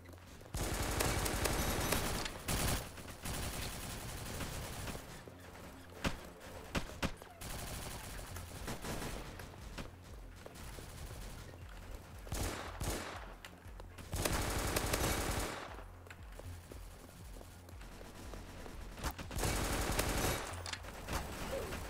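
Sustained automatic gunfire from a gun in a Roblox shooter game, dense rattling bursts with brief pauses between volleys, fairly loud throughout and occasionally under a talking voice.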